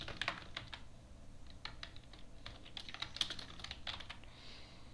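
Steady, close computer keyboard typing as text is entered in Microsoft Word 2013, a quick irregular run of crisp key clicks over a faint room hiss with no talking.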